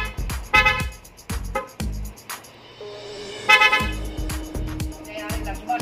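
Yamaha NMAX scooter horn wired to a modified passing switch gives several short honks and a longer one, close and loud, while someone talks between and over them.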